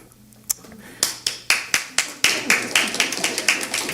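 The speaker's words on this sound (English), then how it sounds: "They deserve the applause." Scattered applause from a small audience at a school board meeting, starting with a few isolated claps and building into a steady run of sharp, evenly spaced handclaps close by.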